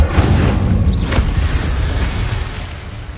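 A fire spell blast in Hogwarts Legacy, heard as a single loud booming burst with a rumbling low end that fades slowly over about three seconds, with no talking.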